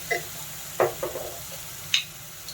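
Green coriander paste frying in a pan for sabudana khichdi gives a quiet, steady sizzle, broken by a few brief scrapes and taps of a stirring spoon.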